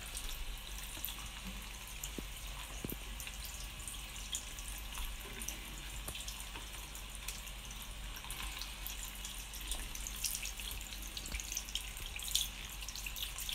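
Water streams from a tap into a sink during handwashing, a steady faint splashing with a few small clicks and splashes, no talking.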